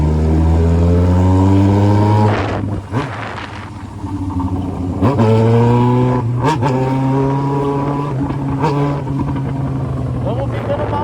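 A Yamaha XJ6 motorcycle with a 3-inch exhaust revs loudly nearby, its deep droning note dropping and climbing again in several sharp throttle blips.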